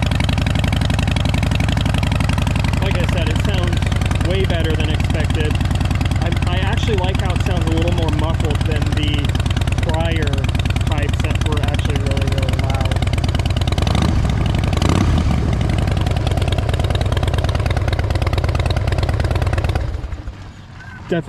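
A Harley-Davidson Dyna motorcycle idles loudly and steadily nearby for about twenty seconds, with someone talking over the engine before it cuts off at the end.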